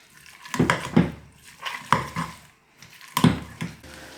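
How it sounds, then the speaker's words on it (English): Boiled potatoes and turnips mashed with a potato masher in a pot, a series of irregular dull thuds and metallic clinks with soft squelching, close and moderately loud. "I'm just going to add salt and pepper and bash away with the old masher."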